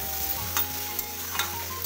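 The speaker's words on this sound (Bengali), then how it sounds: "এবার খুব ভালো করে সবজির সাথে নুন হলুদ মিশিয়ে নিতে হবে।" Vegetables with salt and turmeric stirred in a pan over low oil for a rohu fish curry, a steady close sizzle with a few brief scraping strokes of the spoon.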